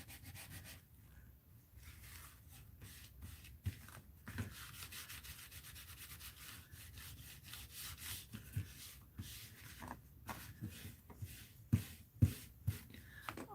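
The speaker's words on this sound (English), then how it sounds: "Let's scrape some of this." Paint being scraped off paper during an art session, a steady dry rubbing and scratching texture running throughout, with a few sharper scrapes near the end, fairly quiet and close.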